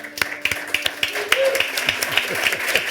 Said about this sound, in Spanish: Un aplauso para tu madre también,